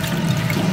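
In Resident Evil 7, sanitizer is poured over a mechanical gauntlet arm, giving a brief, loud, steady liquid trickle and splash.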